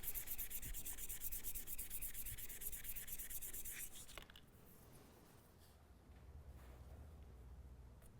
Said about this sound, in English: Doing the hand sanding, I started with 400 grit sandpaper and then working my way up to 600 grit and then to 800 grit